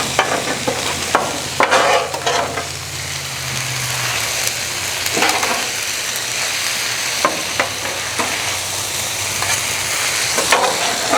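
Mushrooms frying on a Blackstone griddle, a steady close sizzle with scattered scraping and stirring clicks from a spatula, no voices.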